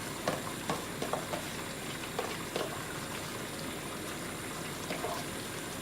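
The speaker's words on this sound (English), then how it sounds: "You can hear that bubbling up nicely." Spinach added to a hot pan on the stove fries and bubbles with a steady broadband sizzle, broken by soft clicks of stirring at a close, moderate level.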